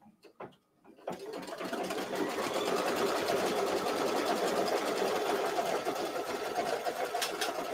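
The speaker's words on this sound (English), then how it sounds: "Just make sure your background fabric completely covers the placement line. And let it stitch that down." A sewing machine stitches background fabric down over a placement line during quilting, running steadily and close after a brief quiet start, with a dense, continuous mechanical whir and rattle.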